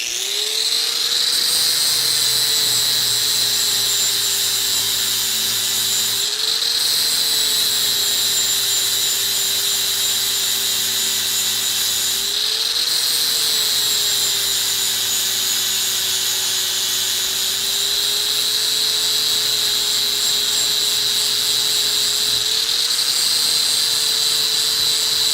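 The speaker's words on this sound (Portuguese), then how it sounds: "Agora vou fazer o mesmo com o disco flap." An angle grinder fitted with a flap disc finishes a metal surface, giving a continuous loud, close whine that dips briefly under load every few seconds; no voices over it.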